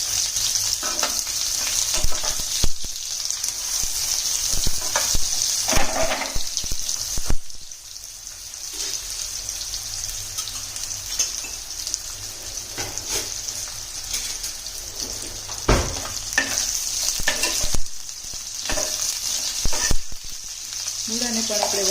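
Radish slices frying in oil with cumin seeds, a steady close sizzle with occasional stirring clatter, heard alone without talk.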